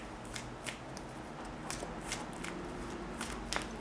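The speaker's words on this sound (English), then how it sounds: "Shuffle the deck." Magic: The Gathering playing cards being shuffled in a deck, giving a run of quick, soft riffling clicks and rustles repeating through the stretch at close range with no talking.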